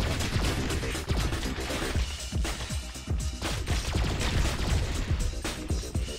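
Explosions and heavy gunfire fill a battle against an alien horde in the top-down shooter Alien Shooter 2: Conscription, with dense, continuous blasts and crashing impacts.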